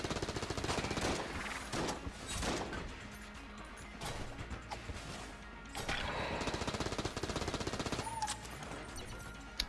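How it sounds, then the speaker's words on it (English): Rapid AK rifle fire in the video game Enter the Gungeon, dense automatic bursts with crashing impacts, loud and nearly continuous, layered with game effects. "That AK is just so fast."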